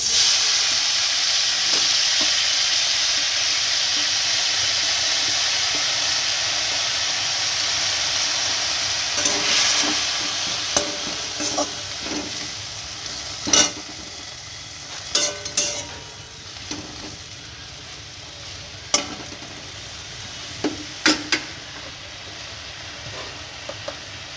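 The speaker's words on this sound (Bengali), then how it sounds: "বেগুন ভাজার তেলেই নিম পাতাগুলো দিয়ে দেবো" Neem leaves fry in oil left over from frying brinjal, with a strong steady hiss that slowly eases while sharp crackling pops and spatters break through later.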